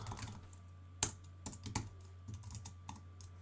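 Quiet, scattered clicks of typing on a computer keyboard while coding CSS, irregular keystrokes with one sharper tap, in a near-silent room.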